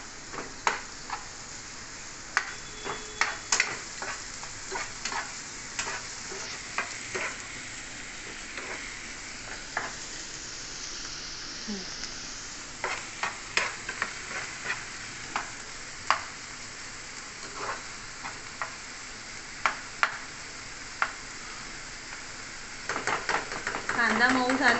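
Onions fry in a pan with light salt added, a soft steady sizzle running beneath frequent sharp clicks and scrapes of a spoon stirring against the metal, close and fairly quiet throughout.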